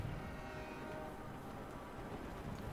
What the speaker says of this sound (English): Plus, now we got this train going off.